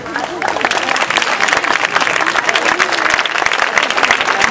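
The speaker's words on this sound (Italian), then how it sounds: "vorrei tributare cada uno un grande applauso perché lo meritano veramente" Loud, dense applause from an open-air concert audience for the musicians of the Cassine town band at Musica sotto le stelle, sustained steadily after a short quieter lead-in.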